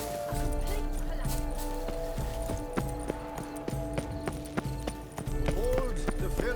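Horse hooves clip-clopping steadily in The Witcher 3, a continuous rhythmic trot under game music and occasional spoken dialogue, with harness jingles and small impacts.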